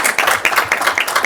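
Audience at a city council meeting applauding, a short burst of quick, fairly close clapping with no talk over it.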